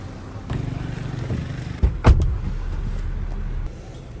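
A car engine cranks and catches with a short thump and burst, then settles into a steady low idle close by, with a faint rumble of another vehicle beforehand.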